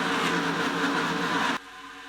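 Stock cars race past at Michigan in a Craftsman Car Series round, a loud sustained engine roar that cuts off abruptly to a quieter hum near the end.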